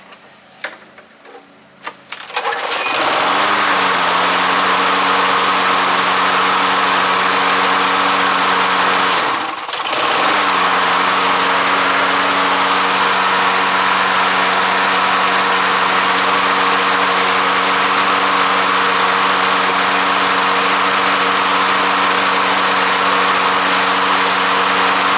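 A Toro lawn mower with a broken deck fires up after a short pull and settles into a loud, steady idling drone that stays close. It dips briefly midway, then runs on evenly.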